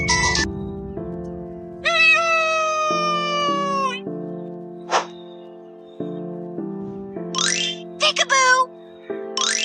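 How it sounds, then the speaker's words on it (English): A cat meows several times in a children's ABC learning game, with drawn-out, wavering cries that rise and fall. Chime-like tones and a voice sit between the meows. "C is for cat."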